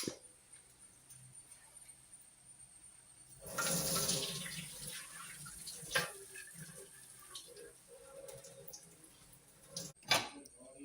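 Water is drained from a pot of cooked rice, a quiet room giving way to a sudden rushing pour that tapers into dribbles and splashes, with a few clanks of the vessel.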